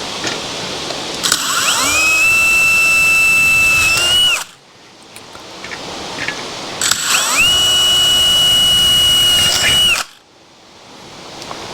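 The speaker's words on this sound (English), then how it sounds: "So I think I'll drill those." A power drill bores holes into metal during a Kawasaki F7 Bushwacker engine install, whining up to speed in two long, loud, close bursts of about three seconds each, with a short quiet gap between them.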